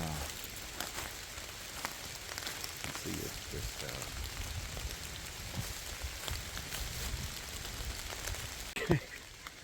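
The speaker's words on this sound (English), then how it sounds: "kind of raining, kind of cold a little bit" Light rain patters steadily at an outdoor graveyard on a cold day, a faint continuous hiss under brief quiet talk, ending with a short knock.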